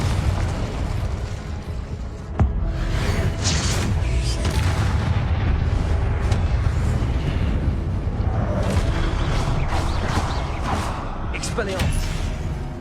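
Repeated Confringo blasting spell explosions in Hogwarts Legacy, loud booming bursts and crackling impacts layered continuously under a voice calling out during gameplay.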